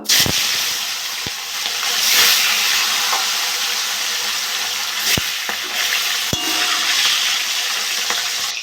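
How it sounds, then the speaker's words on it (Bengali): Silver carp fish fry in hot mustard oil in a kadai, giving a loud, steady, close sizzle throughout. A few sharp clicks and knocks from the pan break through the hiss, and no one speaks. "আমি এবার সর্ষের তেল দিয়ে দেবো তেলটা গরম হয়ে গেছে মাছগুলো ভেজে নেবো"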